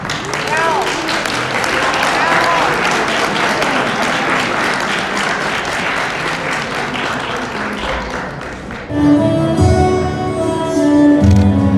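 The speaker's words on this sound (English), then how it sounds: "applause" Crowd applause, a long dense stretch of clapping with voices mixed in, fading out before a different, tonal sound takes over near the end.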